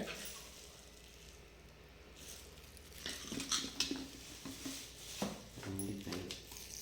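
A knife cuts onions and tomatoes in a home kitchen while preparing sardine fish curry, giving faint, scattered taps and clinks that grow busier in the second half, with a dog-like sound in the background.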